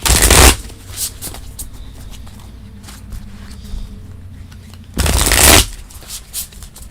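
Tarot cards are shuffled loudly up close in two riffling bursts, one at the start and one near the end, with quiet handling sounds between.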